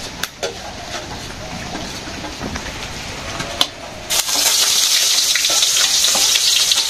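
Khichuri frying in a pot with bay leaf, dried chilli and cumin on a rainy day in a village, a steady close sizzle with stirring scrapes and knocks that swells into a louder, brighter hiss partway through.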